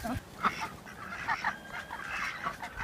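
Backyard farm ducks honking and quacking in short, irregular bursts close by, with other fowl mixed in and a steady outdoor background.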